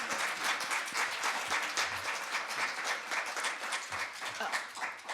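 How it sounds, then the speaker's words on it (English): A seated audience applauds four panel members after a mental health resource discussion: steady, dense clapping from many hands held at an even, moderate level for several seconds, with a few scattered voices beneath. "Can we give them a round of applause?"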